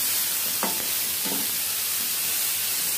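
Vegetables for a pan pizza topping sizzle in a hot pan, an even, close hiss throughout, broken by two brief scraping stirs early on; nobody speaks.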